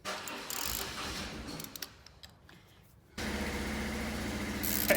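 A motorcycle engine starts somewhere in a workshop after a stretch of faint clatter, then settles into a steady, fairly quiet idle rumble.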